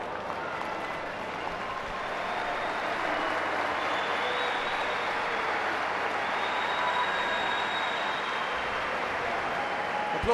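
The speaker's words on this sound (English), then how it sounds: "Applause around the arena for both sets of players" Sustained applause from an arena crowd at a futsal World Cup match between Australia and Ukraine, a steady, dense wash of clapping that holds evenly throughout at moderate distance.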